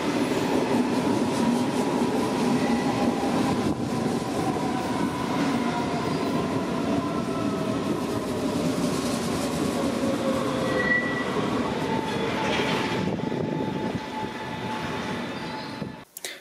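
A Frankfurt S-Bahn train hauled by a DB Class 111 locomotive pulls into the Galluswarte underground station with a steady loud rumble of wheels, faint brake squeals and a rolling clatter that fades as it slows to a stop.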